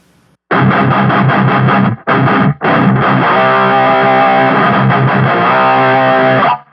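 An electric guitar with distortion runs through a TONEX cab with the amp tone knob on live, loud chord stabs broken by two brief gaps, then one long sustained ringing chord, without any talking.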